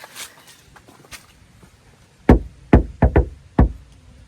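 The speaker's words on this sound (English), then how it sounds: "I wonder if I knock on this one." Five sharp, loud knocks rap on an old, long-unused door, an irregular pair then a trio spaced a fraction of a second apart, following a few seconds of quiet room noise.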